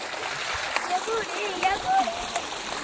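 Water splashes and sloshes steadily as pomfret fish are washed and cleaned by hand, a continuous wet churn with faint voices in the background.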